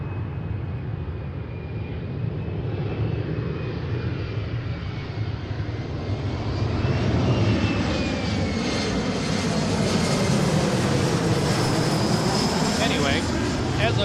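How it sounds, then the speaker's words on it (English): Embraer E175 regional jet in a special livery, arriving from San Luis Obispo onto runway 34L at Seattle, a steady low engine roar building over the clip, with a person talking over it. "All right, so special livery E175 from San Luis Obispo."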